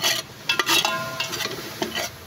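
Butter and garlic are sautéed in a cooking pot for goat papaitan, heard as short close scraping stirring strokes with a faint sizzle underneath and no talk.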